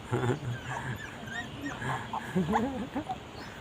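Puppies playing together, close by, with soft whimpers, whines and small yips over a constant background hiss, and a person talking over them.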